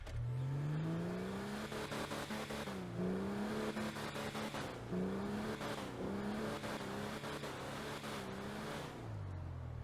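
A heavy armored truck engine (HVY Insurgent in GTA Online) drones loudly and steadily, its pitch rising and falling as it revs through gears, with no talking.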